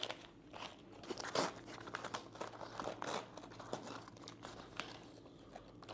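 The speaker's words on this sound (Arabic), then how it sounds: "تعالوا بس نفتح الساندوتش" Crinkly paper wrapping of a fast food sandwich being unwrapped close by, a burst of irregular crackles and crumples that rise and fall over several seconds, with no talk.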